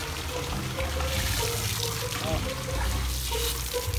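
Water gushes steadily from a broken pipe at a house under construction, a continuous splashing rush with voices talking faintly underneath.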